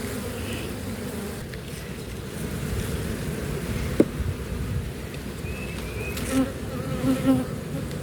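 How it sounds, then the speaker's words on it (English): A dense, steady hum of honeybees buzzing in a full hive, close and continuous, with a few louder buzzes passing near. "So many bees. Yep, it's a very full hive."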